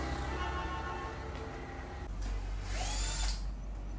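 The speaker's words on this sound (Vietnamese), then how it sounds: "Ra đây cho nó đỡ nghe tiếng máy khoan." Power drill whining in the background of a room where a JBL VRX932LAP line-array speaker is being unboxed, a steady mechanical drone with a rising, louder whine toward the end.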